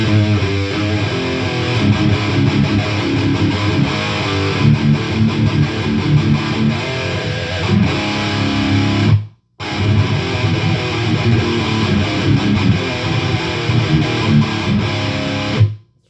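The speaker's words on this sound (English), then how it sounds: "So here's just the turbo distortion by itself with no compressor." An Ibanez RG100ES electric guitar played through a turbo distortion with no compressor, giving loud, thick, saturated chugging riffs that carry on continuously, broken by one brief silent gap near the middle.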